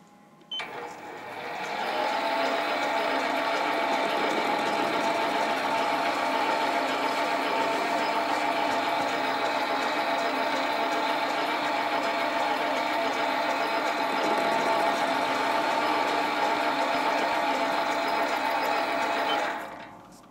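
A metal lathe turns a steam engine crosshead for a Stuart half beam model, held in a four-jaw chuck, giving a steady, loud mechanical whir with a faint rhythmic ticking that runs unbroken for about eighteen seconds before stopping.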